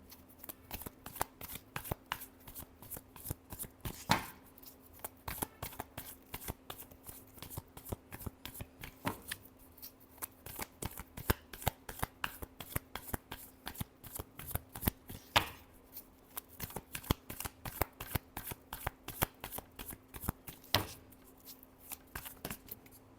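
A deck of cards is shuffled for a reading in repeated crisp riffles, close and steady, one after another with no talk over them.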